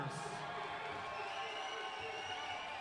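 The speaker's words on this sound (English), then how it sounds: "Nice little crowd for the Coral Springs guys" Small arena crowd cheering and murmuring steadily for a Coral Springs MMA fighter being introduced at a fight event, a continuous mid-level roar with a brief louder swell at the start.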